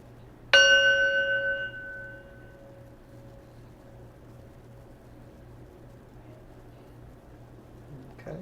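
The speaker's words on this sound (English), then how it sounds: "I'm going to ring the sound bowl here" A singing sound bowl is struck once, ringing out with a bright, clear tone that slowly fades into a long, quiet shimmer over several seconds in a still room.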